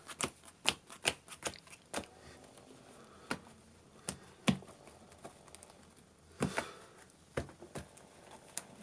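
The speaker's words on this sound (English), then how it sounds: "I'm going to power shuffle this one just so you can kind of see it fully randomized" A deck of Yu-Gi-Oh! cards is power shuffled by hand, giving sharp, close riffling snaps and soft slides in an irregular burst rhythm with quiet pauses between.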